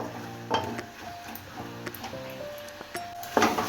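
Stirring a taro and hilsa fish head curry in an open, uncovered pan, with a soft sizzle and scattered spoon scrapes and taps at an uneven rhythm.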